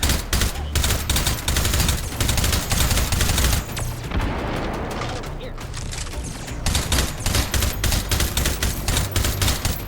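Rapid automatic fire from a Steyr AUG rifle in the VR shooter H3VR, loud, dense bursts of shots with a brief lull midway before sustained firing resumes.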